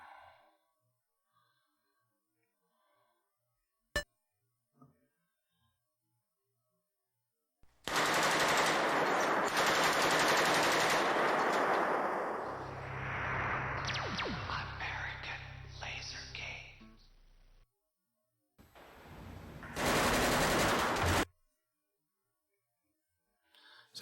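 Bursts of rapid gunfire from the Who Shot Johnny Rock arcade shooting game, played on the Daphne/Singe emulator: a long loud volley of shots, then a shorter burst after a brief pause, with near-silence and a sharp click before.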